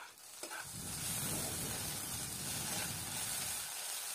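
Potatoes fry in hot oil in a pan with a steady, close sizzle and hiss, and occasional stirring scrapes run underneath. The sound holds continuously with no voices.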